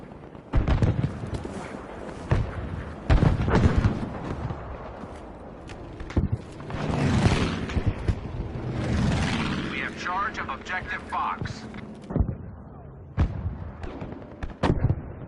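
Heavy gunfire and artillery in the video game Battlefield 5, with booming blasts, bursts of shots and rumbling explosions through the clip, while someone talks over the battle.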